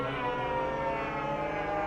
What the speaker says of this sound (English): if you hear me or Theo blow this horn,